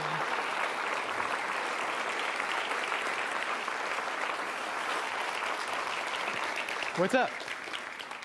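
A CreativeMornings audience in New York applauding a speaker as he comes up to speak, steady crowd clapping that runs nearly the whole time, with a brief spoken greeting near the end.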